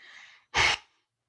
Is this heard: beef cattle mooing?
no